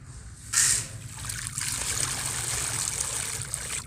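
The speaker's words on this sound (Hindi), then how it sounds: "water pouring" Water poured steadily into a container, a continuous trickling splash that starts with a brief louder burst and runs on without pause, close by, with no talk.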